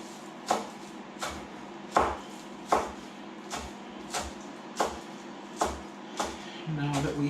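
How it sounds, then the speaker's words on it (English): Green onions chopped with a knife on a cutting board: about ten sharp, evenly spaced chops close up, with a low hum beneath and no talk. "Now that we have our green onion chopped out"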